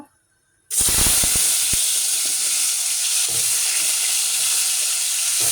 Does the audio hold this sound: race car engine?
no